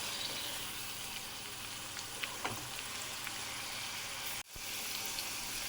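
Broad beans sizzle steadily in about 150 grams of hot oil in a pan, a constant close crackle with faint stirring clicks and a brief dropout near the end.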